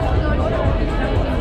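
Dense crowd babble fills a Moscow street at night, many overlapping voices blending into a steady, loud murmur close around, with no single sound standing out.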